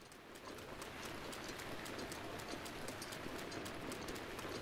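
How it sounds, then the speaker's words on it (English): Rain falling in The Legend of Zelda: Breath of the Wild, a soft, steady patter with faint ticking drops throughout, quiet and with no one speaking. "Rain is just this thing that happens that it's purely there just to hinder you and nothing else."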